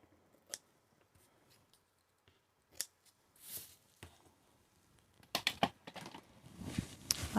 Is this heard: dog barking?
no